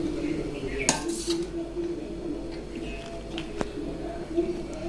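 Cooked rice being spooned over chicken in a pot to layer dum biryani, soft scrapes and a few metallic clinks of spoon against the pot, close and fairly quiet.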